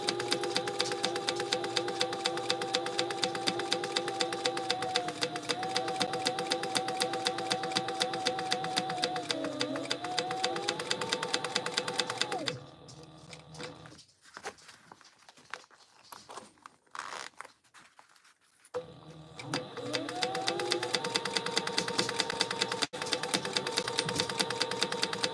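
A sewing machine stitches a backpack with a steady, rapid mechanical whir that stops midway for a stretch of quiet rustling and handling of fabric, then starts up again at the same pace.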